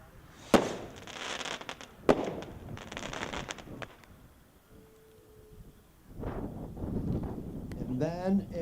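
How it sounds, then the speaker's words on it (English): Magic Sky firework cakes fired at a fireworks dealer show: sharp loud launch bangs followed by hissing, crackling bursts and a rising whistle, with crowd chatter and voices between shots. "Next one is Magic Sky."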